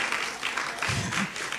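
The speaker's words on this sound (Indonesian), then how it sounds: "Cilin kalau mau tepuk tangan jangan ragu-ragu dong Ci." A congregation claps during a Sunday sermon, a continuous crackle of many hands with a low voice briefly murmuring underneath.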